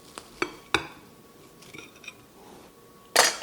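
A knife cuts into flaky fig and almond puff pastry, giving a few sharp crisp crackles and taps spaced over a few seconds. Near the end comes a louder, brief burst of crunching.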